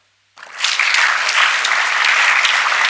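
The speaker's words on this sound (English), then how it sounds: "You can clap now." An audience bursts into applause at a business event, starting suddenly after a moment of silence and continuing as loud, steady, dense clapping to the end.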